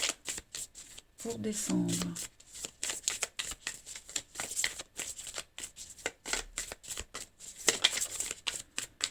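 Tarot cards are shuffled and cut into a triangular cut, giving quick riffling and soft slapping close by, with someone speaking French over much of it.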